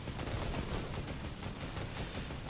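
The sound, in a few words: gunshots in the video game Fortnite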